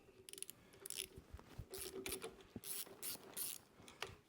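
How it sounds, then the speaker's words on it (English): Ratchet clicks in short bursts as the top caliper bolt is loosened on a Honda TransAlp motorcycle, a quiet close-up workshop sound with pauses between strokes. "we're going to take out the top caliper bolt"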